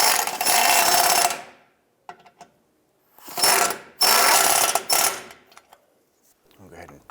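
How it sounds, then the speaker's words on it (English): Ratchet driving in the lower engine mount bolts on a 2001-2007 Ford Escape, with two long bursts of rapid clicking split by a gap, a few short clicks between them and a faint voice at the end. "I'm going to go ahead and tighten these down."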